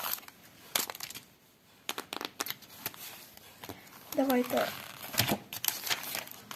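A paper surprise packet is opened by hand. It gives out bursts of crinkling and crumpling in irregular clusters, fairly close, while someone talks between and over the rustles.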